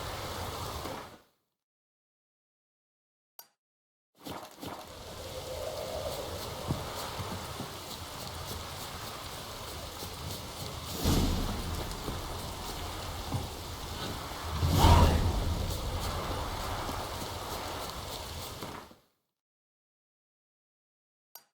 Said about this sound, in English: Who's doing any work in this rain?